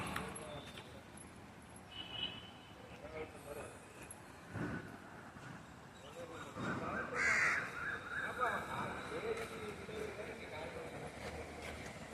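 Crows caw at intervals beside the broad Kaveri river near a riverside temple, distant and mixed with outdoor ambience, a few louder calls standing out, while people talk throughout.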